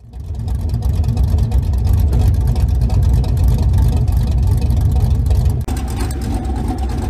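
A GMC Sierra pickup with a stage 3 cam and open headers idling nearby, a loud, deep, lumpy rumble that holds steady throughout with one brief dip near the end.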